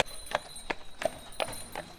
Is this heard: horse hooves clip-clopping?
yes